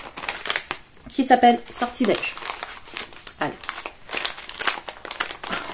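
A wrapped yarn advent calendar package being opened, paper crinkling and tearing in bursts close by while someone talks over it.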